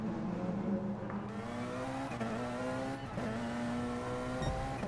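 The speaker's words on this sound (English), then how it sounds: "the brutal acceleration of the Porsche 919" A Porsche 919 race car accelerates in the racing game GT Sport on the Tokyo Expressway, a continuous engine drone with rising pitch sweeps through gear shifts, steady and fairly quiet.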